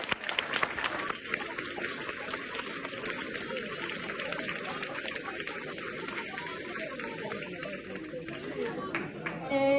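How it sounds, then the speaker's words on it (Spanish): A school audience at an IES Becerreá Christmas event applauds the second-year class, a steady wash of clapping that runs the whole time with voices and crowd chatter mixed in. "Un aplauso para a segunda edad."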